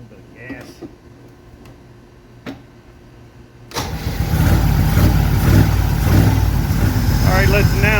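A 1968 Camaro engine cranks and catches after a few seconds of quiet clicks, then settles into a loud, rough running idle with a little throttle.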